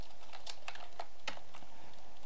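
Code being typed on a computer keyboard, a quick irregular run of close, crisp keystrokes over a faint steady background hum, with no voices.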